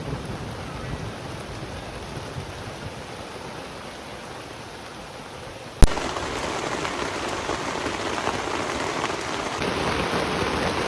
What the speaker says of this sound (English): Sometimes you just have to camp in the rain.